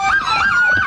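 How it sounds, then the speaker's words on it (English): Police car sirens wail continuously at a street parade, a loud rising and falling electronic tone that fills the whole moment with no voices. "All kinds of sirens going on."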